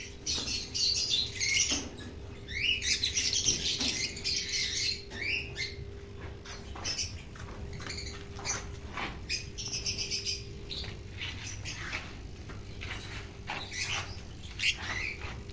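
Lovebird chicks in cages keep up a busy, steady stream of high chirps and sharp squawks, close by and overlapping, with a low hum underneath and no talking.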